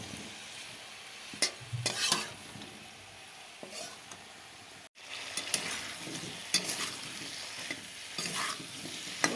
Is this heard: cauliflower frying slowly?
yes